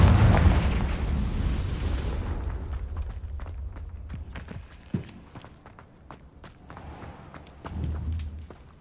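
The Confringo fire spell from Hogwarts Legacy bursts with a heavy, booming blast that fades out, followed by scattered footsteps, a sharp impact, and another low rumble later on.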